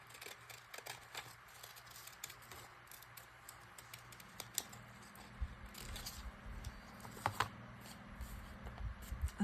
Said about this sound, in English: And I think I'll just go around this with the ripple scissors.